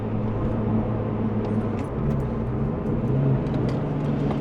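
Steady low rumble of a Porsche 996 Turbo engine cruising along a Black Forest road, a continuous droning hum with road and wind noise and no talking.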